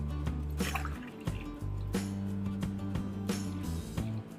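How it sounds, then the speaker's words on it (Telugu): Water poured from a glass splashes and trickles onto lentils in short bursts with a few drips, close by and fairly loud, no talking. "అదే గ్లాస్తో రెండు గ్లాసుల వాటర్ని యాడ్"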